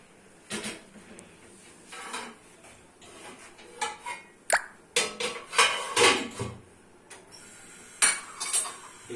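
Steel plates and spoons clink and clatter at close range while dal and rice are served at home, a busy run of irregular metallic knocks and scrapes that grows denser toward the end, with no talking.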